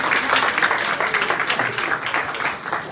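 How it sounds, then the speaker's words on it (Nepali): A small crowd at a New Year house gathering applauds together, giving dense, steady clapping close by for the whole stretch. "ल ताली बजाइदिउँ है"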